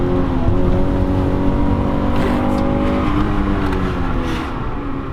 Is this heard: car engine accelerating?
yes